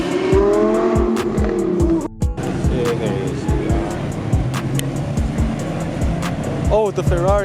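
A Ferrari 360 leaving a car show drives past amid other cars, with engine revs and tire noise under excited nearby talking.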